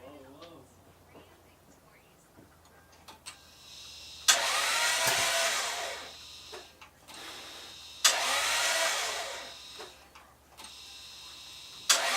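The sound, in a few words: Lexus GS300 2JZ-GE engine starting after timing belt service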